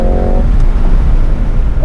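Cadillac CT5-V Blackwing engine at full throttle on a race track, a loud, close, steady roar with strong low rumble and a harmonic whine that fades after the first moment, continuous for about two seconds with no talk.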